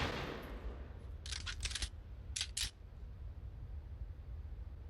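Desert Eagle pistol fired in the shooter game CS:GO, two quick clusters of sharp bright shots over a steady rushing background hiss, with no talking.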